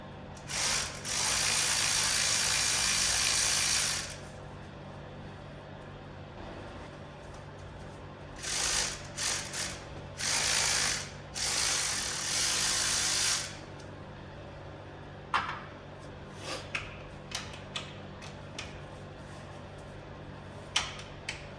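Ratchet spinning off 10 mm bolts from a Honda B18 valve cover, loud bursts of rapid clicking separated by pauses and a few faint single clicks, close up with no talk.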